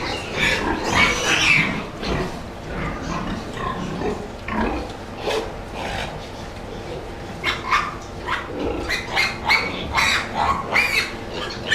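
Thirty-day-old piglets grunt and squeal continuously while eating feed, a dense, noisy chorus of snorts and squeals close by.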